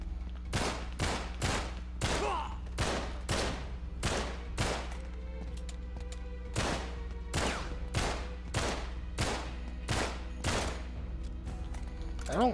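Pistol gunfire in Uncharted 3: about twenty sharp, loud shots in an irregular but steady cadence, each a crisp crack with a short tail, over a constant low hum of in-game ambience.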